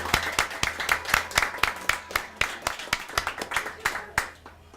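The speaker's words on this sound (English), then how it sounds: "a round of applause for the Andover High students" A crowd applauds Andover High students at an evening poetry event: distinct, fairly close hand claps in a brisk uneven rhythm, a smaller audience rather than a roaring hall, fading out at the end.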